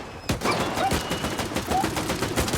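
Rapid bursts of gunfire in the video game S.T.A.L.K.E.R. 2: Heart of Chornobyl, in Pripyat, crack out after a brief quiet start, sharp repeated shots and a short volley, with no voices present.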